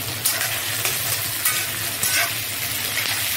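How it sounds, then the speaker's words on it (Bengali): Slit green chillies frying in hot oil for a tilapia curry, a steady close sizzle with a few brighter spitting bursts and stirring scrapes, no talking. "তিন চারটে কাঁচা লঙ্কাও দিয়ে দিচ্ছি চেরা।"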